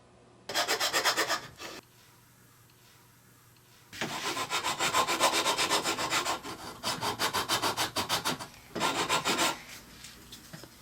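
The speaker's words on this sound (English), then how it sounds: "Sanding 3 ways." Wood for a toy banjo is sanded by hand in rhythmic rough scraping strokes, several bursts of rapid back-and-forth rubbing separated by short pauses, close and fairly loud.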